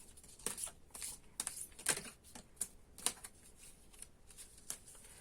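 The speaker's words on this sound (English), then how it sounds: "So let's continue to shuffle." A deck of tarot cards is shuffled by hand, quiet riffling bursts and papery snaps coming in short irregular clusters, close and soft with no talking.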